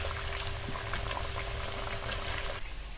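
Single potato frying in oil in a pan, giving a steady, dense sizzle and bubbling hiss close by that holds level for the whole stretch, with no talk over it.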